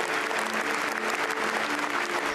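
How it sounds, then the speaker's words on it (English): Roaring applause from a large crowd of leaders greets surviving D-Day veterans arriving in wheelchairs at the 80th anniversary commemoration of the Normandy invasion. The clapping is dense, steady and sustained throughout. "Leaders gave a roaring applause to the surviving veterans as they arrived in wheelchairs"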